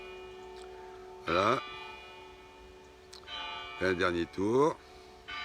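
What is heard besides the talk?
church bell of Fatima ringing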